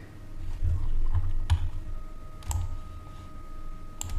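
A computer mouse clicks a few times while someone works in SolidWorks CAD software: sparse, sharp, separate clicks spaced about a second apart over a faint low hum, with no talking.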